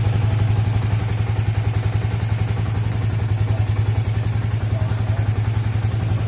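A Yamaha Vixion Old motorcycle engine idles steadily at close range, its firing pulses forming an even, rapid rhythm with a light mechanical clatter and no voices over it.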